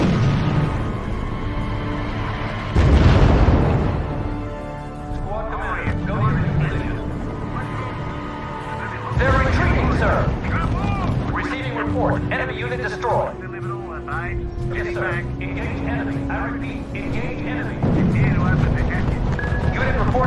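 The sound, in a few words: gunfire and explosions in the video game R.U.S.E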